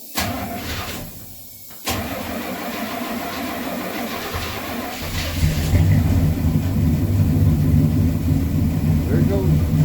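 A Square Body Chevy truck engine cranks and catches, a brief whir then a pause before the engine settles into a steady low idle that grows louder, with someone talking over it.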